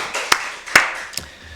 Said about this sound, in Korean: 살아계신 하나님께 박수로 영광 드리겠습니다.